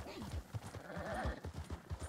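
Horse hooves clip-clop at a steady, moderately quick trot in Red Dead Redemption 2, a fairly quiet rhythmic patter with a brief whinny-like tone partway through and no talk over it.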